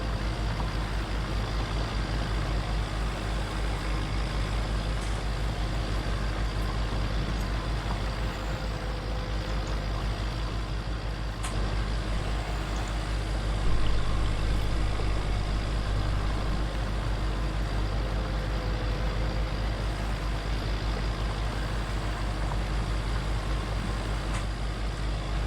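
A tractor engine in Farming Simulator 19 drones at a steady, low idle-like rumble through the whole stretch, loud and unbroken, with no talk over it.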